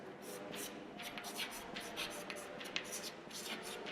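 Pencil scratching an arc across paper, a soft, quiet run of short rhythmic strokes close to the microphone with no talk.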